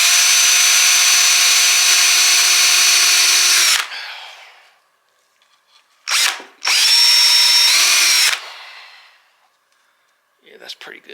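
A power drill drives screws into a wooden table, giving a long steady high whine, a short burst, then a second sustained run, and finally a brief faint blip at the end.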